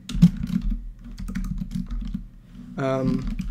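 Code being typed on a computer keyboard, a quick run of close, crisp key clicks followed by a brief voiced murmur near the end.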